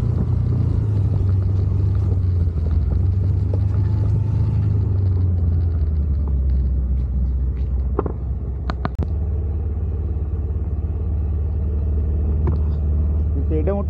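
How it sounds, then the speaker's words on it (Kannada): A car engine rumbles steadily with a low drone while a wheel spins on a wet monsoon road, with a voice talking over the constant noise. "Spin ಅವನುಂಡು wheel."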